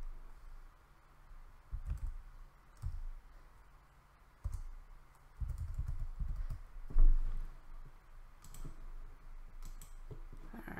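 Computer mouse clicks while working in a design program, a few sparse, faint taps spread over a quiet room background.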